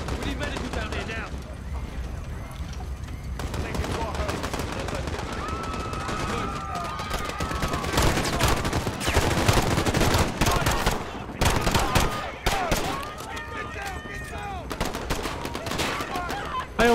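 Gunfire rattles through a Piccadilly Circus firefight in Call of Duty: Modern Warfare (2019): rapid automatic bursts and single shots over constant battle noise, heaviest in the middle stretch, with voices shouting in between.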